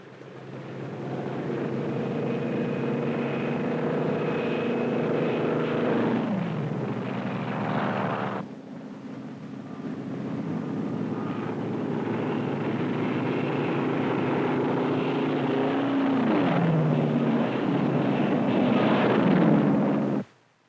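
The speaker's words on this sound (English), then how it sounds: "the drone aircraft are launched and temporarily guided from the carrier until control is picked up" Drone aircraft launched from a carrier during Operation Crossroads in 1946, a steady loud droning aircraft engine roar that shifts in pitch as it passes, sustained for the whole stretch with a brief drop midway.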